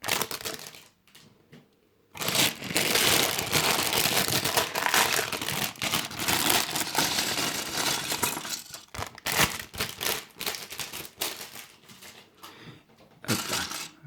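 Small plastic bags from a LEGO City Satellite Service Mission set being torn open and handled: continuous close crinkling and rustling with loose bricks clinking, broken by brief pauses.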